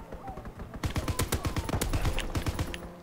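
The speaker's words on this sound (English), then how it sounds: "Man, rapid fire on this gun" MG 81 machine gun in a WWII multiplayer game: after a quiet start, rapid bursts of close, sharp shots rattle in quick succession for about two seconds, with brief gaps and mechanical clicks.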